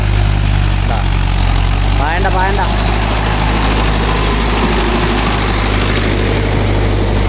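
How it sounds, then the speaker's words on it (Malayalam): A tractor engine rumbles steadily as it approaches, a loud low mechanical drone that continues under a brief spoken phrase and some background voices. "ട്രാക്ടർ വരുന്നുണ്ട്."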